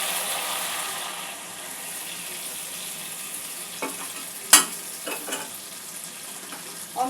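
Spice paste for a brinjal curry frying in oil, a constant soft sizzle with occasional sharper clinks and scrapes of a spoon stirring near the end.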